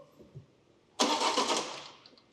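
A car engine cranks and catches in one loud burst, then settles into a briefly fading run after a quiet lead-in.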